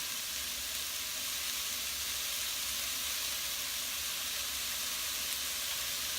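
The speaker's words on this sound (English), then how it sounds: "Get the vegetables in there, spread them out. Let them steam." Vegetables sizzle and steam in a hot pan beside kielbasa and black beans, a steady, faint, hissing crackle that holds evenly throughout with no talking.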